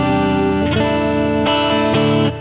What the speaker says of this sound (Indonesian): Ya, gue pakai efek gitar.